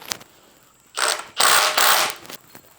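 A ratchet tightens bolts to torque spec on refreshed Nissan S14 parts, giving a brief burst of rapid clicking followed by a longer, louder run of close ratcheting.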